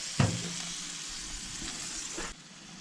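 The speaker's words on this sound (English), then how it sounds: "let's just let them sit here and fry for a little while" Burger patties fry on a grill in a steady close sizzle, opening with a brief knock, then cutting off abruptly near the end, no voices.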